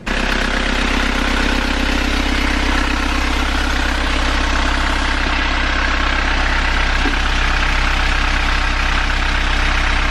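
A sailboat's engine idles steadily after a gasket repair, a constant close mechanical rumble with a low throb and no talk, holding even for the whole stretch apart from one small knock near the end.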